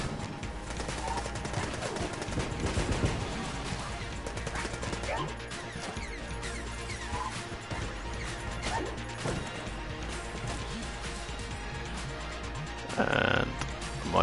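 Rapid gunfire from a fast-firing weapon in Enter the Gungeon, a dense stream of shots and crashing impacts running steadily throughout amid busy game effects, with a louder burst near the end.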